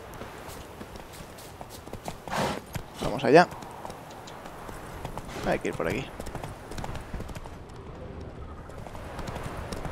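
Horse hooves clip-clopping in the video game The Witcher 3: Wild Hunt, a few short bursts of hoof steps against quiet ambient game sound, with someone speaking Spanish over it.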